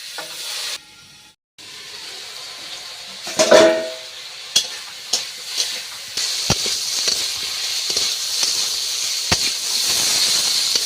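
Water hits hot curry in a pan and a loud sizzling hiss takes over, with spoon clinks along the way, then a steady steam hiss that keeps going to the end.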